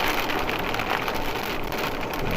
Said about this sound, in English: And now it's raining even harder.